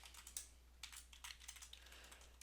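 Someone types on a computer keyboard in quick, light, close keystrokes over a faint low hum, with no talking.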